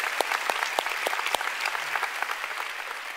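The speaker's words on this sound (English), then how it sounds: "Let's give the Lord a big clap." Sustained clapping from a large church congregation, a thick, even roar of applause with sharp nearby claps popping through, heard alone without speech.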